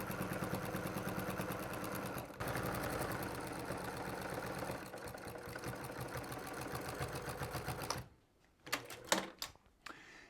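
A sewing machine quilts a weighted minky blanket in a long steady rapid stitching run with brief pauses, close and continuous, before stopping and leaving a few soft handling clicks.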